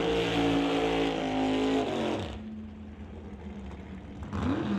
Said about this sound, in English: Rolling into the water box right now up here in the TCS side of the racetrack